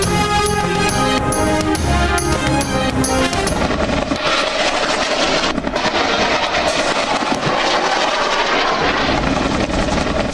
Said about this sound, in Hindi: फील्ड मार्शल नासिम मुनीर ने मुजफ्फरगढ़ में Z10ME हेलीकॉप्टर्स के जरिए फायर पावर का मुजाहरा देखा।